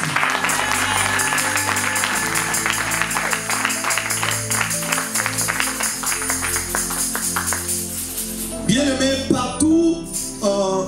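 Church congregation cheering and clapping in praise of Jesus, steady rhythmic clapping over music with voices, ending in a louder burst of cheers.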